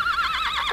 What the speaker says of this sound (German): Ich habe ein Pferd gehört.